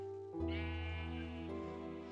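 A sheep in the Minecraft video game lets out a loud, sustained, wavering bleat that holds steady for nearly two seconds, heard clearly on its own without any talk.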